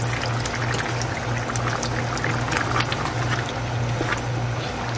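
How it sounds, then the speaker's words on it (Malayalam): Water pours steadily into a simmering pot of beef and elephant foot yam curry, a continuous splashing gush close by with a low hum underneath. "ഇച്ചിരി വെള്ളം ആഡ് ചെയ്യേണ്ടി."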